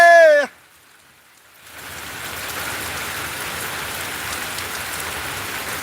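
After a brief tone and a moment of near silence, heavy rain pours down steadily and loudly in Anand, Gujarat, a dense continuous hiss.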